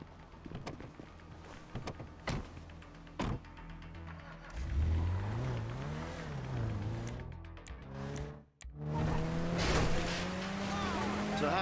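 Car engine in GTA V rising and falling as it revs and accelerates, with tyre and wind noise and a brief drop near the end, while voices talk over it.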